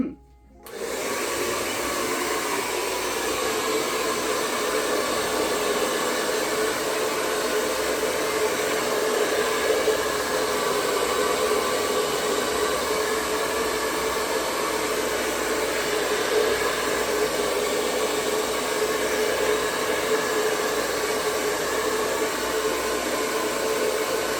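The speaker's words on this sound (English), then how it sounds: "I'm going to assist it with the blower a little bit. This is loud, I apologize." A loud electric blower roars steadily and continuously after starting, a constant whooshing rush of air that never pauses.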